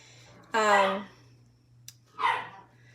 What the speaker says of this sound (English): we have a new puppy, so he's in the background trying to get the other dog to play